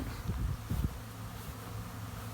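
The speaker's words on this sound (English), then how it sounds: "it looks like one of the hives are swarming. There's bees all over." A low, continuous buzzing hum of a swarming honey bee hive fills the air, with a few louder close passes early on.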